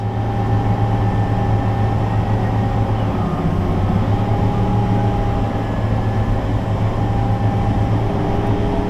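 A New Holland 512/530 Mega Cutter 30-foot triple mower runs steadily, giving a loud, continuous engine and machinery drone with a constant hum throughout and no voices.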